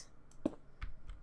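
A few sharp clicks from a mechanical computer keyboard, spaced irregularly as keys are pressed, fairly close but quiet with no talking.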